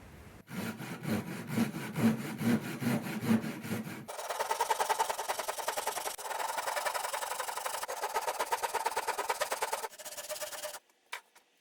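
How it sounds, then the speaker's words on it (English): A hand saw rips diagonally through a wooden stool with steady, rhythmic back-and-forth strokes, close and loud, shifting to quicker, brighter strokes midway before stopping. "I'm going to take that stool that I just pulled off and rip it diagonally"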